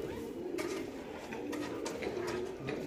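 Lalchina pigeons with red tails coo steadily in a loft, a soft continuous murmur of several birds with occasional brighter calls rising over it.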